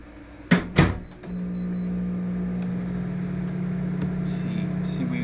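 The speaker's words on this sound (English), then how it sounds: "we're gonna throw this back in the microwave for another 2 minutes" A steady low microwave oven hum runs through most of the clip, after a couple of loud thumps and a short beep at the start; a few faint clicks follow.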